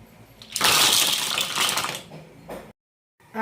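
Water from cooked mussels in a seafood boil is poured off in a loud rushing splash lasting about two seconds, then a brief trickle before silence, with no voices.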